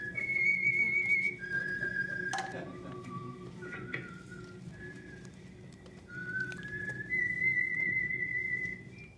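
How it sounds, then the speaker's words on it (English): A whistled signature tune for the radio drama program The Whistler, a lone melodic whistle rising and falling in clear sustained notes over a faint low background hum, with a brief sharp accent midway. "Let that whistle be your signal"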